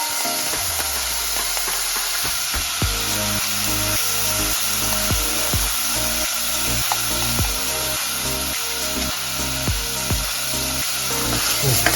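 Two onions and two tablespoons of curry powder frying over moderate heat in a pan, a loud continuous close sizzle with repeated scraping and clattering from stirring throughout.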